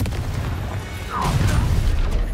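The Confringo explosive spell going off during combat in the Hogwarts Legacy video game, a single deep boom that swells and rolls on for about two seconds, loud and close.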